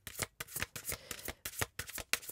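Tarot cards are shuffled steadily by hand, a rapid run of riffling bursts in an even rhythm, close and fairly quiet, with no talk.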